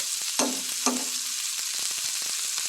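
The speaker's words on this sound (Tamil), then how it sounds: "இப்போது அரிஞ்சு வச்ச கோஸை வந்து போட்டுக்கலாம்" Chopped cabbage hits a hot pan and fries with a steady broadband sizzle, marked by two sharp splattering bursts near the start and scattered light crackles and stirring taps.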